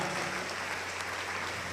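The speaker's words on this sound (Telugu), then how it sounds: "గట్టిగా చప్పట్లు కొట్టండి, గట్టిగా హల్లెలూయా" A church congregation applauds hard during a Telugu sermon, a steady wash of clapping hands running through the whole short stretch at even loudness with no speech over it.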